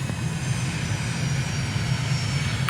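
Steady, loud propeller aircraft engine drone as a plane rolls for takeoff in a flight simulator, a constant low hum with no talking over it.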